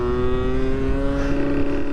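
A Suzuki Street Magic moped fitted with a much larger engine screams at full power, a loud, close, steady high-revving drone with strong harmonic whine that holds constant as if stuck in first gear.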